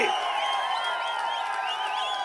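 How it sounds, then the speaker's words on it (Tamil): A huge crowd at a political rally in Orathanadu, Thanjavur district, roaring and whistling in a dense, continuous wall of cheering that holds steady and loud throughout. "இந்த பகுதியில் இருக்கிற பூமியே ஆடுகின்ற அளவுக்கு மக்கள் வெள்ளம் ஆரவாரம் எழுச்சி"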